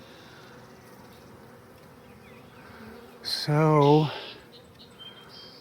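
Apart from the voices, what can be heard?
swarm of honeybees buzzing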